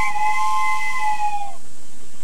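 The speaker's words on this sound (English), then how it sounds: "The sound that comes from a train is a whistle blow." A steam train whistle blows a loud, sustained shrill tone that slides down and fades after about a second and a half, leaving a steady hiss behind it.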